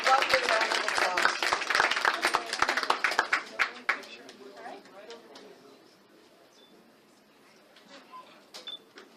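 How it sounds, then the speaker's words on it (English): Audience clapping as a winner comes forward at a 2018 statewide award presentation: dense applause for about four seconds, thinning into scattered claps, then a quieter room with faint murmurs. "A lovely round of applause."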